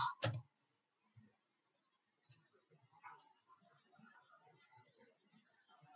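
A few scattered, faint clicks and taps on a computer keyboard while a value is typed into design software, sparse and quiet with short pauses between keystrokes.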